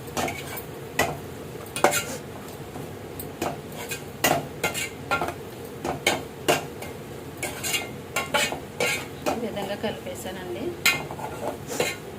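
Small fish curry with onion, salt and turmeric cooks in a pan, with frequent clinks and scrapes of a metal spoon against the pan over a low sizzle, a steady busy stirring rhythm close by.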